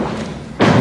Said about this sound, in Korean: 이 쾅쾅대는 이 좀 듣기 안 좋은 소리가 들리는데 왜 이렇게 건물들을 깨내는 걸까요?